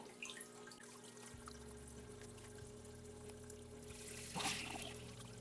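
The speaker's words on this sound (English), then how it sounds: "the bell siphon has kicked in, and the water level is going to rapidly decrease in this tub" A bell siphon in an ebb-and-flow emersed aquarium plant setup drains water from one tub into the tub below, with a steady, quiet gurgling trickle that swells into a louder rushing pour near the end.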